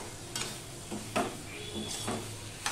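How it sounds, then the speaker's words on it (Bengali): Okra stirred with spices in a pan makes a low sizzle under several distinct scraping strokes of a spoon, about four sweeps spaced roughly half a second apart, heard close by. "এবার মশলার সাথে ভেন্ডিগুলো ভালো করে আমি মিশিয়ে নিয়ে রান্না করতে থাকবো"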